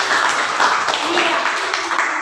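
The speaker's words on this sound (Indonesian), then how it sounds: "oke, kita berikan tepuk tangan" Audience applause for a teacher's classroom lesson, dense steady clapping from many hands throughout, fairly loud and close, with no clear talk over it.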